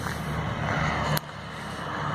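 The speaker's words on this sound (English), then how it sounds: "Nice tractor going by." Tractor driving past outdoors in a garden area, a steady low engine rumble that holds throughout at moderate distance, with a brief sharp click near the middle.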